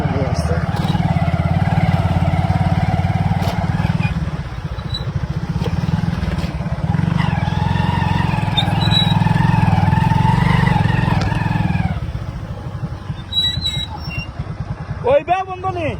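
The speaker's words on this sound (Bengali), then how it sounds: "এই যে এখন মোটরসাইকেলে চড়ছে পর্যটকরা" Motorcycles carrying tourists ride along the road at Jaflong Zero Point in Sylhet, with a loud, close engine drone and revving for about twelve seconds before fading, while someone talks over them.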